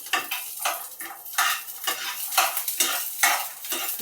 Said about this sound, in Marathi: त्याच्यामध्ये मी कांदा हे वाटाणा थोडा आपण परतून घेऊया.